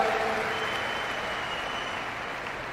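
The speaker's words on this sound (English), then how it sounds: "Oh, you're clapping." Steady, moderately loud clapping from a large audience at a Save Soil talk in Delhi, a continuous even wash of hand claps with no voices standing out.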